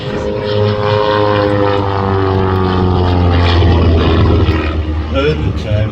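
A propeller aerobatic aircraft at an air show drones overhead with a strong low hum, the engine note rising and shifting as it climbs, while a voice talks over it.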